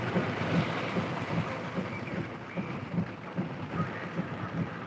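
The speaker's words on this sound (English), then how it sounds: "This is impressive rain." Heavy rain pounding on a truck during a downpour near Jonesville, Virginia, a dense steady roar with a rhythmic thumping beneath it, probably windshield wipers, heard from inside the cab with no voices.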